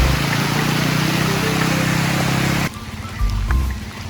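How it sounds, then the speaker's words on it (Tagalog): Heavy rain pours loudly on a hilly rural property in Mulanay, Quezon during a storm, a dense broadband roar that drops abruptly partway through and then swells again. "lumalakas yung ulan"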